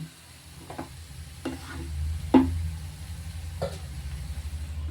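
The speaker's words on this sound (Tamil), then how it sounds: "பாவக்காய் வந்து நல்லா வதங்கிக்கிட்டு இருக்குது." Bitter gourd frying in a pan of oil and water for a South Indian stir-fry, with a steady low sizzle and several sharp scraping stirs of a spoon against the pan, close by and with no talk.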